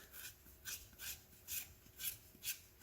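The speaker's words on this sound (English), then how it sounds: "And having to scrape off all the wax." Knife or blade scraping wax off an apple's skin: six soft, rhythmic rasping strokes about half a second apart, close but faint, with no talk.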